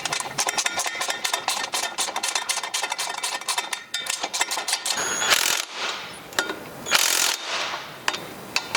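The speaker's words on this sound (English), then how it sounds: "So I'm going to tighten these" A ratchet clicks in rapid bursts tightening exhaust bolts on a Land Rover Defender, pausing between strokes, with a few sharper metallic clanks near the end.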